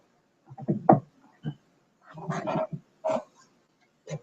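A dog in the room gives a few scattered barks and yips, close and fairly loud, in short bursts separated by brief pauses with no talk over them.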